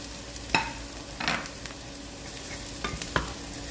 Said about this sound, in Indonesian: Aduk-aduk semuanya sampai tercampur rata dan matang.